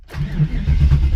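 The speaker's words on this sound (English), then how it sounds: "so that I can just crank it on the starter for a little while" A Chevrolet LT1 V8 cranking on its starter without firing, a steady loud churning drone lasting about a second.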